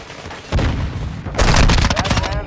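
A grenade detonates in a military shooter game, producing two heavy booming blasts less than a second apart, mixed with crackling gunfire and rumbling close up.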